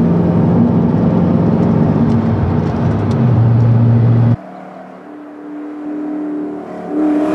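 Race car on a mountain course being driven back on the throttle out of a corner, a loud close engine roar with rising pitch that cuts abruptly partway through to a quieter, lower engine drone.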